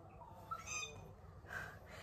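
Birds call outdoors, a few faint, brief chirps and squawks over quiet background noise, heard at a distance with no speech.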